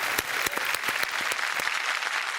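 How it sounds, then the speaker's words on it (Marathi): An audience claps for a lyricist, a brisk round of applause with distinct sharp claps standing out near the front, steady and fairly loud over the short span. "त्यांच्यासाठी एक जोरदार टाळ्या होऊन जायची."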